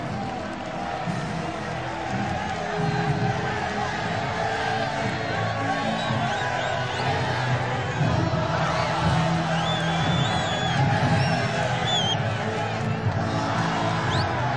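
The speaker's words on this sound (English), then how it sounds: "Delight for Madridistas who have come to see Mindi" Real Madrid fans fill the Santiago Bernabéu stadium with a continuous roar and scattered whoops while a player kicks balls into the stands. A commentator's voice runs over the crowd noise.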